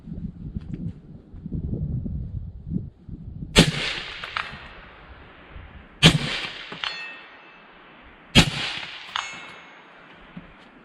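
Three sharp gunshots ring out from a Daniel Defense 11.5-inch rifle upper on an outdoor range, spaced a few seconds apart. Each crack is loud and near and leaves a trailing echo, with some low handling noise before the first shot.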